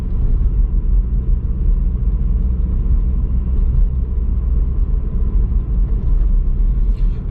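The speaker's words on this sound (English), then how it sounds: "a little tiny burble coming from the back of the car from that lovely exhaust note" A Renaultsport Clio 220 Trophy cruising at 30 mph, heard from inside as a steady, deep engine and exhaust rumble with a low burble that stays loud and even throughout, no talk.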